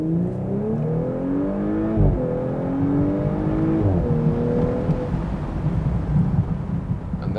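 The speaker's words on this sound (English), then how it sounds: "So you've experienced the 0 to 100 kilometers or 62 miles an hour acceleration just live now." An Audi S5 Cabriolet with a V6 launching hard to 100 km/h, its engine note climbing steeply through rising revs, dropping briefly at each gear change, then surging again, loud and close throughout.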